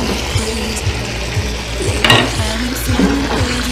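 Red beans are stirred in a sizzling frying pan, with a steady frying hiss, rhythmic scraping of a spoon against the pan and a few clinks, loud and close.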